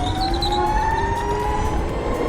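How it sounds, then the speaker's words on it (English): Rion RE60 electric scooter accelerating hard in a race against a Sur Ron e-bike, its wheel losing traction, heard as a steady rising high-pitched electric motor whine over continuous road and wind noise. "I can hear the Rion just ripping out, losing traction."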